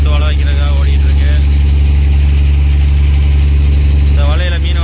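A fishing boat engine out on the Arabian Sea drones loud and steady throughout, a constant low rumble, while someone talks over it at the start and end.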